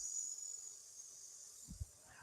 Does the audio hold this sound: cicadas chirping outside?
yes